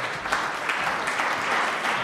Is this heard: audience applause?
yes